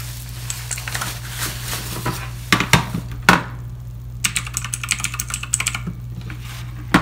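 Typing on an Eagletec KG040 mechanical keyboard, a close, steady patter of key clicks with a few heavier thunks and a brief pause before the typing resumes.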